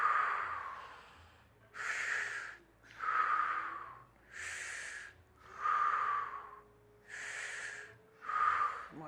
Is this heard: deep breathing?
yes